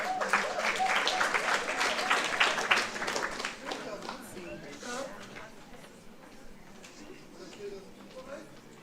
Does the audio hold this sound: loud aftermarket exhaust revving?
no